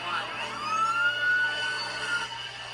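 Fire engine sirens responding to a plane crash near a rural road, a wailing siren sweeping up and down in pitch at moderate distance, steady and alone without talk.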